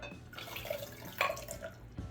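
Water splashes and trickles into a mixing bowl for about two seconds, with a brief louder pour in the middle and no talking, while making cake batter.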